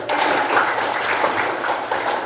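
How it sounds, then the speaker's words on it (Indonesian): Classroom group applause, a dense burst of many hands clapping together, fairly loud and close for a couple of seconds. "tepuk tangan dulu"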